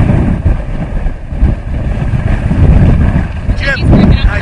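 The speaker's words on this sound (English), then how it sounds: "You can see how the wind just takes it, accelerates the air through the buildings" Hurricane wind roars between buildings in strong, buffeting gusts that batter the microphone, loud and rumbling throughout, with a brief higher whistling sound toward the end.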